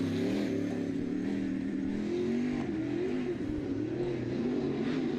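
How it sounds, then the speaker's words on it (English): Late model race cars drone around the racetrack during memorial race qualifying, a steady, mid-distance engine roar with slight rises and falls in pitch throughout. "So 2 more cars now on the racetrack."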